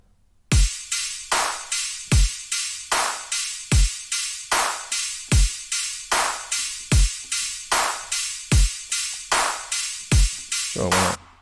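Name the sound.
EDM drum beat in a sound design tutorial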